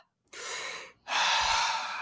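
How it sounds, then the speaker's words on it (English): A person takes two deep breaths close to the microphone, a shorter inhale followed by a longer, louder airy breath after a short pause. "Take a deep breath"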